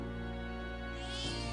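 A cat in the video game Metaphor: ReFantazio meows once, a drawn-out, steady mew over a constant hum of game music, rising into a brighter, higher cry near the end, with no talk.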